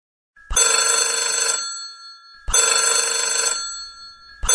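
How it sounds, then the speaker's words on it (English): A telephone bell rings in two long, loud trilling bursts with a short gap between them, and a third ring begins at the very end. "Ring, ring. It's the phone."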